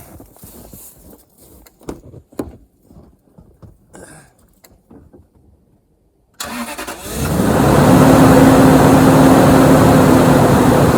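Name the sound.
car engine starting with jump starter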